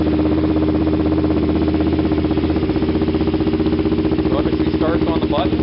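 A dirt bike with a custom exhaust system idles nearby with a steady, rhythmic thumping rumble, loud and continuous, with a few brief sounds over it near the end.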